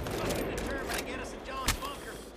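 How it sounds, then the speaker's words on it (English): Mortar rounds in Far Cry 5 go off as several sharp, punchy blasts spaced a fraction of a second apart over a busy, rumbling battle bed, with brief voices mixed in. "Can you stop shooting the mortars?"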